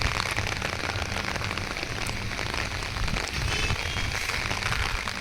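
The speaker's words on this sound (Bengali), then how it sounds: "হ্যাঁ, বৃষ্টি, হেভি বৃষ্টি হচ্ছে, এত পরিমাণে বৃষ্টি হচ্ছে" Heavy rain pours steadily at a private fishing pond in Kalitala, Shantipur, Nadia, a dense, constant hiss of drops drumming on surfaces with no break for the full length.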